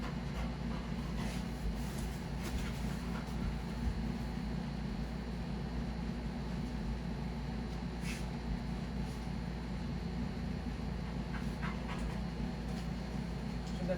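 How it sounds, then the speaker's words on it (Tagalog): A pet dog pants and whimpers close by in a steady, continuous stream of breathy sound over a low background hum, lasting throughout. "Dito kasi yung aso ko mabait."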